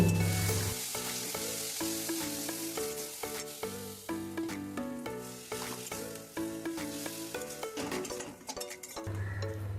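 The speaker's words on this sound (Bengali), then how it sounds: "এবার মশলাটা ভালো করে কষিয়ে নেব" Turmeric, cumin and coriander masala sizzles steadily in hot oil in a pan, with rhythmic scraping and stirring strokes and occasional metallic clinks of the spatula, close and continuous.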